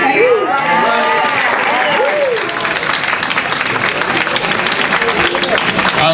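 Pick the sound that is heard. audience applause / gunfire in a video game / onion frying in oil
audience applause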